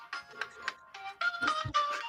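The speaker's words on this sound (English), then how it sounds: "My phone has been ringing off the hook" A phone ringtone plays a bright, repeating melodic tune, several short chiming phrases in a row, clear and close with no talking.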